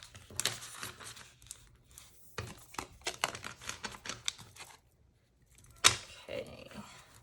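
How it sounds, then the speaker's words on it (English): Crisp papery flicks and riffling bursts of tarot cards being shuffled, close by, in uneven clusters with brief pauses and a short quiet gap. "let's start pulling some tarot to take a look at this relationship a little bit more"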